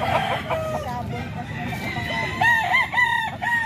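Bullstag fighting rooster crowing close by, several shrill cock-a-doodle calls over clucking and farmyard murmur, with people talking faintly in the background.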